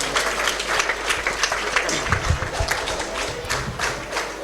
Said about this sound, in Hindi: इनका जोरदार तालियों से स्वागत किया